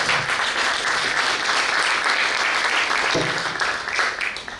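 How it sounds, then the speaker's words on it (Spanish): Applause from an audience at a neighborhood workshop meeting in a barrio, a full, steady round of clapping that stays loud and fills the room before gradually easing off toward the end. "un aplauso para Vale y te paso la palabra."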